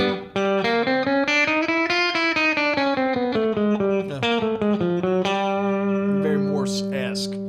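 An overdriven electric guitar plays winding chromatic lines with sustained, harmonically rich notes. It is loud and continuous, and the final bars settle on a held tone under sharp bright accents.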